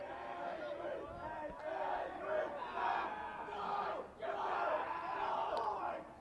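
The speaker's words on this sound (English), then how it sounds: "That noise you hear is not the fans cheering." Players in the St. Mary's high school baseball dugout chant and cheer in loud rhythmic waves during a game against Bishop Feehan, the crowd of voices rising in several bursts with brief dips between.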